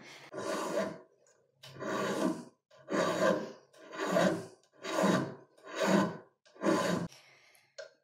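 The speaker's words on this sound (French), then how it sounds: "je vais m'aider évidemment de ma cheville et puis d'avoir un maximum de contact avec la lime" Rhythmic metal filing with a Glardon Vallorbe Swiss barrette needle file, seven even rasping strokes about one per second, close and clear with no talking.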